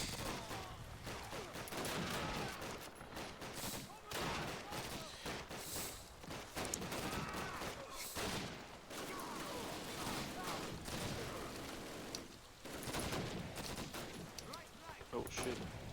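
MG3 machine gun fire in the World War II shooter Call of Duty: United Offensive, rapid bursts and scattered gunfire crackling continuously, mixed with battle noise and voices.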